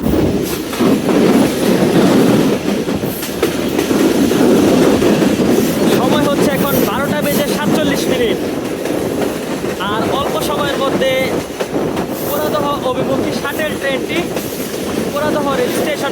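A local train runs from Jagati toward Poradah Junction in Bangladesh, rumbling along steadily with rhythmic clatter of wheels on rails, loud and close throughout, with faint voices mixed in.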